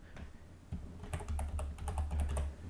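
Keys clacking on a computer keyboard as a shortcut name is typed in the Google Chrome browser, a quick run of close, crisp taps over a low steady hum, with no talking.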